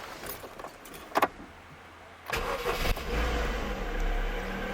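A Ford Fiesta IV fitted with an ethanol conversion kit starts up: a couple of faint clicks, a short crank, then the engine catches and settles into a steady, close idle.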